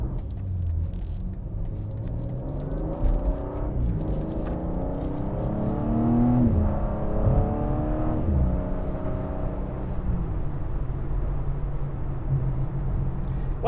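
A 2024 BMW M2 accelerates hard, its engine note climbing through rising pitch sweeps and gear changes, loud and close, then settling back to a steady low rumble.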